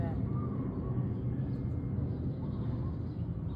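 An airplane passes over a house in a steady, low broadband rumble that holds at an even level throughout, with no voices.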